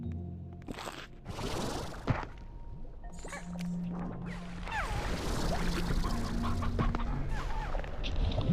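Chickens in the video game Slime Rancher 2 clucking and squawking in short irregular bursts over a busy game background, moderately loud with no talking.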